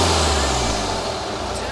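A BMW 3 Series E90 320d diesel with a newly fitted turbo runs with a steady, close, low engine rumble while people talk over it.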